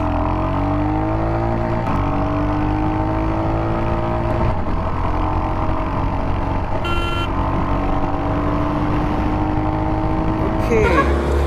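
A Royal Enfield Hunter 350 motorcycle pulls through its gears on a road, the engine's droning tone rising in pitch, dropping at each shift, then climbing again, loud and continuous with someone talking over it.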